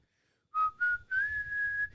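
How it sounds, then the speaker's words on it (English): A man whistles the melody of the Titanic love theme in a few clear, sustained phrases that rise and hold, close and alone after a brief silence. "Are you whistling the Titanic song?"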